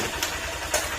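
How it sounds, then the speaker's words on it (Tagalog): A Honda Click scooter with an abnormal engine sound idles on its center stand, a steady close engine hum with a faint uneven knock and two brief louder surges. "mapapansin niyo yung tunog ng kanyang motor"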